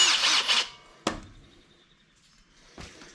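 A power tool grinds briefly against the cut metal edge of a grill guard on a John Deere 2032R or 2038R tractor, a short harsh burst followed by a sharp knock and a faint later touch.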